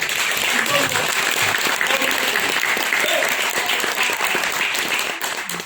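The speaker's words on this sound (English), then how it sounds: "a better round of applause for our warriors" A crowd applauds loudly and steadily, dense clapping that holds throughout before tapering off at the end.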